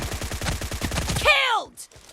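Suppressed Beryl M762 assault rifle fire in PUBG Mobile team deathmatch, a rapid burst of about a dozen muffled rounds ending in a short ringing tail, then a brief clicking noise.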